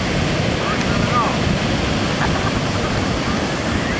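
Ocean waves break and wash onto a sandy beach in a steady, broadband roar, with wind buffeting the microphone throughout.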